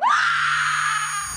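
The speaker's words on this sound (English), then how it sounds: "Poirot's friend screams." A single sustained scream in a film trailer, loud and close, rising sharply then holding steady for over a second before trailing off, with no talk over it.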